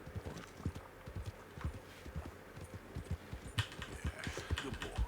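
Horse hooves clip-clop in a steady, even walking rhythm in the Red Dead Redemption 2 video game, close and clear, with a brief burst of extra ambient noise near the end.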